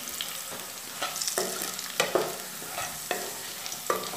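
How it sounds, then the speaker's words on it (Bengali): Potatoes fry in a pan with a constant low sizzle while repeated scraping strokes of a stirring spoon come at an uneven rhythm, close by. No one speaks. "আলুটা আমার প্রায় ভাজা হয়েই এসছে"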